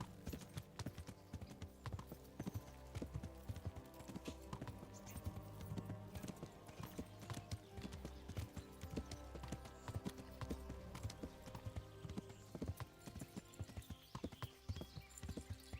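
Horse hooves clip-clop in a steady trotting rhythm in the video game Kingdom Come: Deliverance, quiet and continuous, over a soft musical background.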